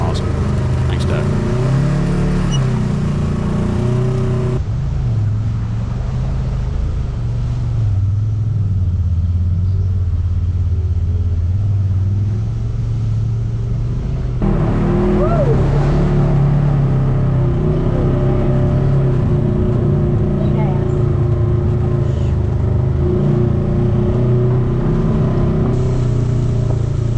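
A Honda Talon X4 side-by-side runs in high gear on an off-road park trail, its engine a steady, loud, close drone with a shift in load partway through and a rumbling low end throughout.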